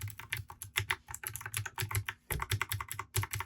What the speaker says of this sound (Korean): 청축 스위치 기계식 키보드이기 때문에 타건이 경쾌해서 누르는 맛이 있고